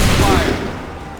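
A musket volley fires in Assassin's Creed III Remastered, a single loud, dense burst of many shots at once that rolls off into a fading echo.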